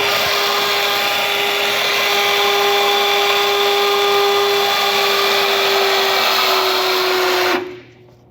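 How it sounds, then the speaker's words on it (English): A battery-powered cord strap tensioner pulls a strap tight with a steady, loud motor whine lasting about seven seconds, then cuts off abruptly. "you're going to press your button and it's going to pull to the tension we had set"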